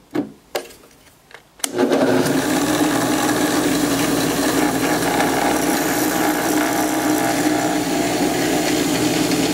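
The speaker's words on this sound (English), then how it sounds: "you can go ahead and drill the wooden ball" A power drill bores through a wooden ball, starting with a few short bursts and then running steadily and loudly for several seconds.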